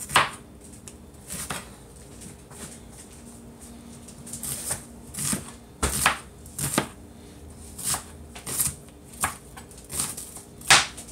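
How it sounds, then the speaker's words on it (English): A knife chops a large onion on a cutting board, a series of crisp, close knocks that come sparse at first and then settle into a steady rhythm about every half second, with no talking. "Then I'm out cutting up my onions, and I'm using maybe about 3/4 of a large onion."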